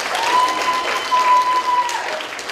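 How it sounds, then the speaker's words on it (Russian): An audience at a Miss pageant applauds the contestants: a steady wash of clapping from a crowd in a hall, loud and sustained, with a faint tone underneath. "Итак, еще раз аплодисменты всем"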